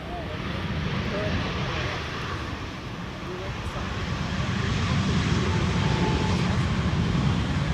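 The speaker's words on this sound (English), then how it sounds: "EasyJet type 23853 is landing here, arriving from Milan." An EasyJet airliner arriving from Milan lands on runway 18R at Schiphol airport, its engine roar a continuous broadband rumble that swells slightly louder over the final seconds.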